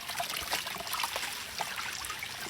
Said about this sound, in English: Okay, you add this water to that one.